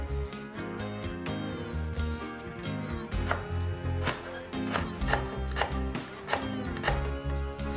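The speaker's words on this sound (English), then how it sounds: "Finely mince half the lemongrass" A knife finely mincing lemongrass on a cutting board, steady rhythmic chopping taps close up over soft background music, no talking.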